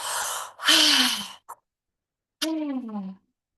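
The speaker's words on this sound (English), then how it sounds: "breathing in deeply through your mouth so that your diaphragm is actually filling up" A person breathes deeply through the mouth, a loud airy inhale followed after a pause by a slower, voiced exhale like a sigh, heard up close.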